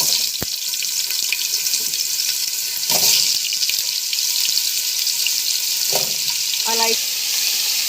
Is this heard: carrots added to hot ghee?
yes